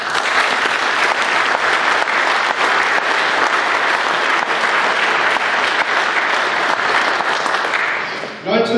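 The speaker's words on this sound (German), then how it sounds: "Applaus" A large audience in a hall applauds a speech at an NPD federal party congress: loud, dense, sustained clapping that holds steady for several seconds, then dips briefly at the end.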